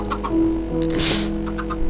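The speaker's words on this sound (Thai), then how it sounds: "เราก็ได้ลูกไก่ของเราแล้วนะครับ" Chickens cluck in the video game Minecraft, several short clucks at a moderate level over a steady low background hum, with no talking.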